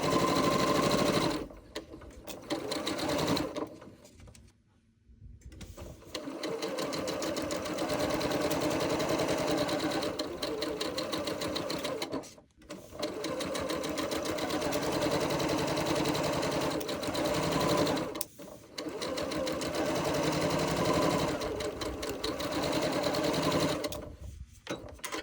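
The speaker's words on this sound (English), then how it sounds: "I'm going to sew each of these" A sewing machine stitching half-square triangle quilt pieces, a rapid steady mechanical whir running in long bursts with short pauses between seams, close and loud.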